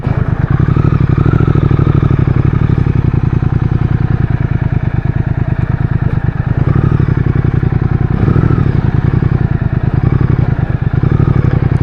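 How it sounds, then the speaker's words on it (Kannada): A 2022 Triumph Speed Twin 1200cc motorcycle exhaust rumbles loudly and continuously up close, a deep steady engine throb with slight swells in revs throughout. "ಎಕ್ಸಾಸ್ಟ್ ಮಾತ್ರ ಸಖತ್ತಾಗಿ ಬರ್ತಾ ಇದೆ ಸೌಂಡು"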